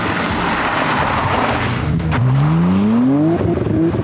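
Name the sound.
car accelerating hard in first gear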